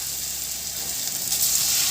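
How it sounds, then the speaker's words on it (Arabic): Flour-coated chicken breast pieces frying in hot oil, a steady close hissing sizzle that swells slightly toward the end, with no talking. "اول ما الزيت بيسخن باخد الفراخ بتاعتي وانزلها."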